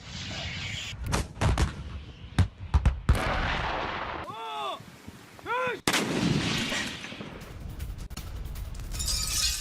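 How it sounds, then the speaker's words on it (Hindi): Artillery fire striking a Russian military position, heard as several sharp, loud blasts and booms in the opening seconds followed by rumbling aftermath and a whistling, descending tone, with faint voices in the background. "रूसी सैन्य पोजीशन पर यह टारगेटेड अटैक था।"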